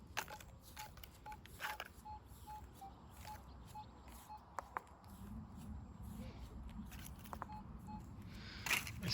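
Metal detector in a field giving short, repeated mid-pitched beeps over a buried target, faint amid rustling digging noise and handling clatter outdoors.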